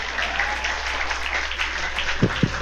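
A church congregation claps during a Sunday fellowship service, giving a steady, moderately loud patter of applause that grows into a few sharper, closer claps near the end.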